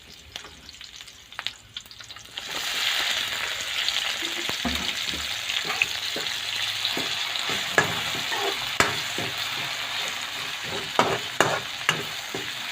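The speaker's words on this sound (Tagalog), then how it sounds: "Idadagdag naman natin ang ating kamatis." Onion and tomato frying in a pan: a quiet start gives way after a couple of seconds to a steady, close sizzle, broken by scattered clicks and scrapes of stirring.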